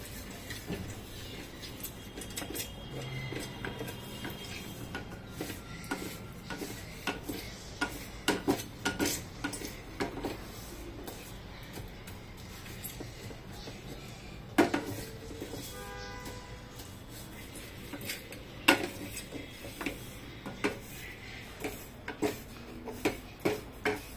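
A spoon stirs almonds, cashews, raisins and blackberries in a pan, making quiet scraping and scattered clinks and taps at an uneven pace, close and fairly faint.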